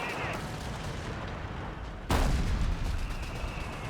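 Artillery shells land in a Company of Heroes 3 match on the Gazala map, a loud sudden blast cutting through ongoing battle noise, with distant gunfire continuing around it.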